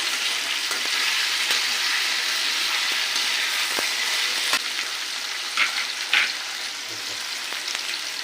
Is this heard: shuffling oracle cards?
no